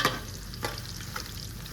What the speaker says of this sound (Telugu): రాయ కూడా వేగుతున్నాయి.